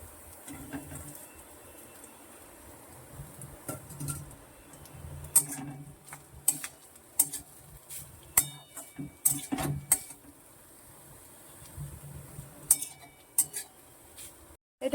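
Chopped chicken going into lightly fried onions in a pan, with sharp clinks and scrapes of a utensil against the pan in an irregular rhythm over a faint background, no talk.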